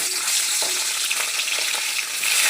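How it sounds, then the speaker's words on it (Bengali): Rui fish frying in hot oil gives a steady, dense sizzle with crackling spurts, loud and close throughout, with no voices. "মাছটা ভালো করে ভেজে নেব।"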